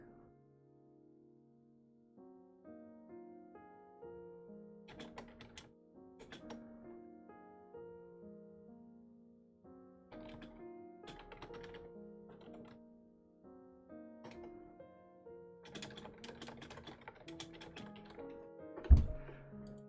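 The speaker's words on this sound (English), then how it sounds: "Sorry, I was typing to" Quick taps on a computer keyboard come in short irregular clusters, close and fairly quiet, over a soft melodic background, with one louder knock near the end.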